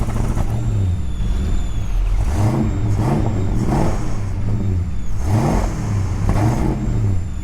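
A car engine held flat to the floor revs hard, surging and dipping as it repeatedly cuts out, likely starved of fuel; loud and close with a steady roar underneath.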